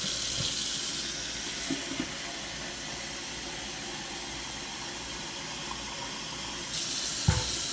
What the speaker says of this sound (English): We're gonna grab ourselves some water.